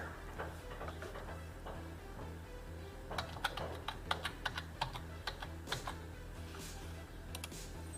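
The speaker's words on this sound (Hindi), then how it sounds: "यहाँ पर टाइप करेंगे www.amazon.it" Web address being typed on a computer keyboard: a quiet scattering of taps at first, then a quicker run of crisp, close keystrokes in irregular rhythm over a low steady hum, with no talking.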